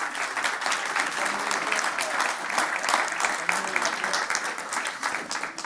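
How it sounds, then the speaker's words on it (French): An audience applauding a presenter at an evening technical department event, dense sustained clapping throughout. "Je vous demanderai encore un tonnerre d'applaudissements pour Monsieur Van Loo."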